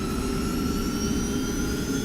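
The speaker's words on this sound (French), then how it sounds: "La Baronne Noire monte à bord de l'avion de chasse et engage les moteurs." Fighter jet engines spooling up as a radio drama effect, a steady loud whine and roar with a high tonal hum throughout, no voices.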